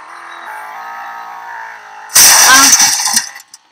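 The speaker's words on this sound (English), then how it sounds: "The car keeps crashing." Loud crash with shattering glass in a video game, bursting in after a steady hum of game audio and then scattering into tinkling debris before fading out.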